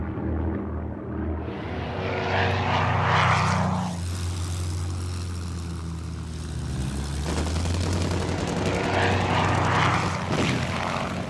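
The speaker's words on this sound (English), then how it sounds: "RAF fighters, vectored into position by ground controllers," RAF propeller fighter planes fly overhead, a loud sustained engine drone that swells and fades as the aircraft pass, with a steady low rumble throughout.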